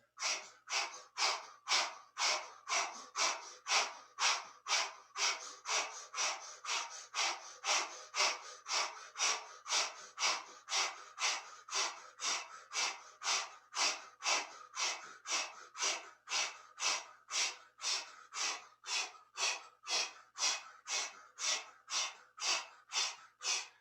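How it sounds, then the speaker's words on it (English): Rapid rhythmic breath of fire during Kundalini yoga, forceful breaths pushed through an O-shaped mouth in a steady pulse of about two per second, close and sustained. "Breath of fire through the O-shaped mouth"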